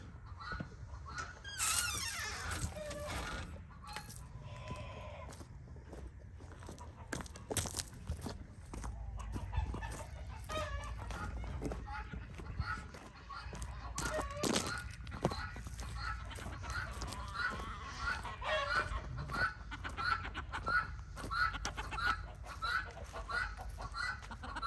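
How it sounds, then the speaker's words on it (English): Chickens and a rooster clucking and calling on a farm, several birds nearby with repeated clucks and scattered crows over about twenty-five seconds, mostly without talk. "Here's a rooster."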